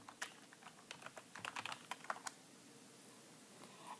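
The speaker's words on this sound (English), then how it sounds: "We will first need to switch to the newly created database by typing use OSN data." Light, quick keystrokes on a computer keyboard tap out a short burst of irregular clicks, close and quiet, then trail off into near silence.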